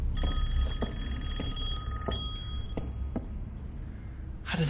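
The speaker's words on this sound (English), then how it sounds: "Somebody's phone's ringing in here." A phone rings in the video game Resident Evil Village, a faint repeating electronic ring pulsing about every half second over a low ambient hum, ending with a sudden brief noise.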